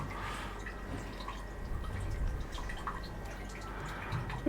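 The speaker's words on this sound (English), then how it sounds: "you pour the rest of your can in." A can of Guinness is poured into a glass: a soft continuous liquid flow with gurgles and drips, close and fairly quiet, with no talking.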